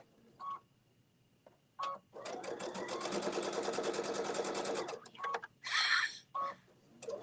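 A sewing machine runs in one steady burst of about three seconds as it stitches two folded fabric pieces together, with short clicks and handling noises before and after.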